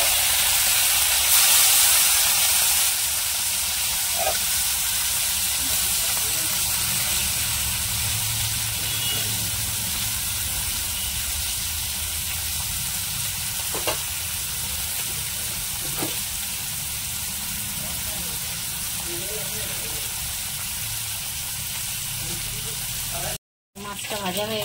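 River fish frying in a hot pan of oil, turmeric-coated, giving a steady sizzling hiss that runs unbroken for the whole stretch, with a few faint clinks and a brief dropout near the end.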